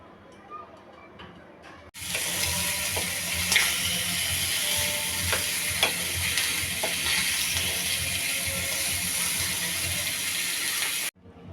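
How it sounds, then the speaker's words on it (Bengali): Fish pieces rubbed with salt dry-roasting in an empty pan without oil, a steady loud broadband sizzle that starts abruptly and holds for about nine seconds with occasional small ticks and pops, then cuts off. "তেল ছাড়া খালি কড়াইতে মাছগুলো একটু টেলে নিব।"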